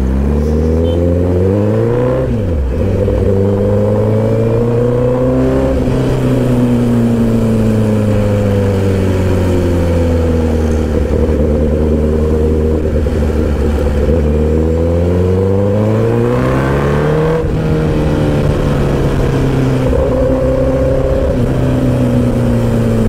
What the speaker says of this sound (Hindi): और आज अपने पास बाइक भी बहुत लाउड है।